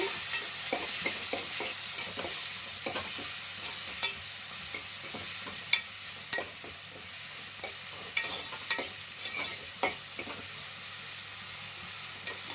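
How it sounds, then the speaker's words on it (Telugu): Onions and green chilies frying in a pan, giving a continuous sizzle broken by repeated scraping stir strokes, close and steady, with no voices. "ఉల్లిపాయ పచ్చిమిర్చి వేసుకున్నాం అండి ఇప్పుడు ఇవి కూడా కొంచెం బాగా వేగాలి"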